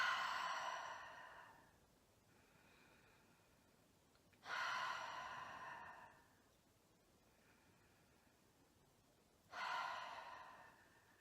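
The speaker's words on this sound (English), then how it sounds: "just take 3 deep breaths in and out" Three slow, deep breaths during meditation, each a loud airy exhale with quieter inhales between, close to the microphone and evenly spaced apart in a quiet room.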